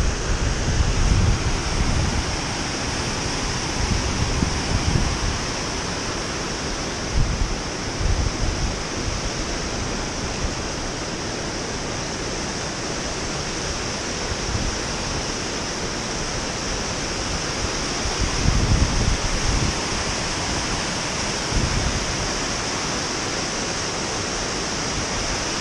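Water pouring over a small dam into a falls along the Appalachian Trail, a constant broadband rushing roar heard up close, steady for the whole stretch, with occasional low wind buffets on the microphone and no voices.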